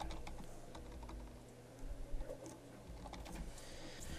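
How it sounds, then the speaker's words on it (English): Typing on a computer keyboard, entering a budget line item: a quiet, fairly steady patter of key clicks with a slightly denser flurry midway, close and alone over low background hum. "we'll type in fall operational expenses"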